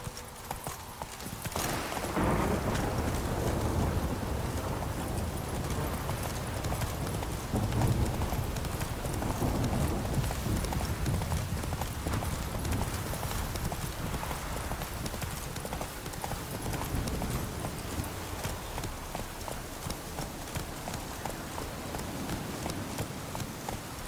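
Roach, a horse in The Witcher 3, gallops in a steady, brisk rhythm of hoofbeats on the ground, close and continuous, with faint background noise.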